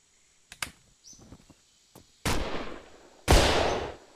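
In The Long Drive video game, a few small clicks and taps lead to two sharp, loud bursts, the second a big flashbang blast with a hissing, ringing tail.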